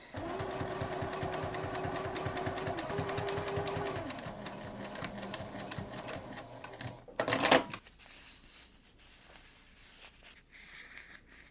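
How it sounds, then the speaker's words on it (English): Sewing machine stitching fabric seams on a hip bag, a steady close rapid needle patter for about seven seconds with a slight speed change, then a brief clunk and quieter handling. "sew 1/4 inch down the sides and then in, leaving a turning gap"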